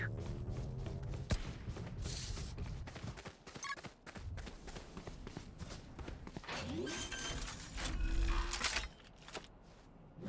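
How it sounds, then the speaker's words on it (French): Valorant spike-planting in progress: a busy game mix of close footsteps, clicks and the device's rising tonal beeps and chirps, with gunfire-like bursts and a brief swell near the end. "Posez le spike."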